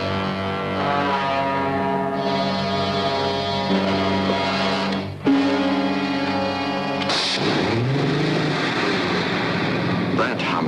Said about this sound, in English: there were two huge engines, and the second one was refusing to start